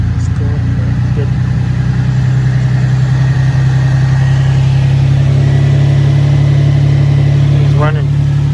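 A single-turbo Infiniti G35 engine idles steadily after its first start, with a constant low rumble, loud and close, holding an even note throughout.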